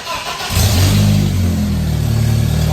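A BMW E46's engine cranks and catches after a brief quiet moment, then settles into a loud, steady idle with a low rumbling drone close to the microphone.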